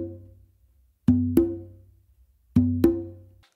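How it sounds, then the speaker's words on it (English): Two pairs of open drum tones, each a bingba stroke quickly followed by a conga stroke, resonant and close, ringing out alone with pauses between the pairs. "what I'm gonna do is that open that I do with my non-dominant hand on the Bingba"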